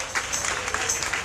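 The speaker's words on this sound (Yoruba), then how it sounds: "ẹ jẹ́ ká pàtẹ́wọ́ fún Jésù o" A prayer-meeting congregation claps for Jesus, a brief burst of scattered, moderately loud hand claps with faint voices underneath.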